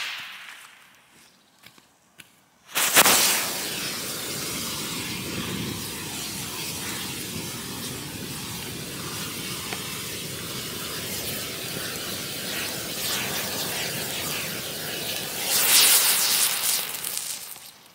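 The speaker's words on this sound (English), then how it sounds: "For the final test, I decided to use something genuinely dangerous. This thermite grenade is perfect for that." A thermite grenade lit by a gasless pyrotechnic delay fuse: faint ticks, then a sudden loud ignition that becomes a sustained roaring hiss lasting about fifteen seconds and swelling near the end.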